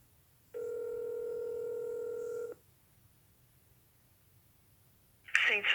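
Steady telephone dial tone hums for about two seconds after a call to a police and fire dispatch line drops, then silence before a faint clatter.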